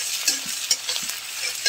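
Onions frying in hot oil after five-spice seeds (panch phoron) go into the pan for a mixed vegetable dish, a close, continuous sizzle broken by rhythmic stirring scrapes and crackles.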